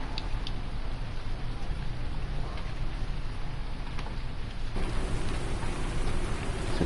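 Rain pours steadily in Farming Simulator 19, a dense, even hiss of drops on surfaces that swells louder partway through and continues without a break.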